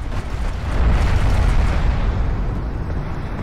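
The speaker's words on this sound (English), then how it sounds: "Siege cruiser's dropping a barrage in here," An artillery barrage from a siege cruiser in Homeworld: Deserts of Kharak lands on a turret, heard as a continuous deep rumbling roar of overlapping explosions that swells and then eases off.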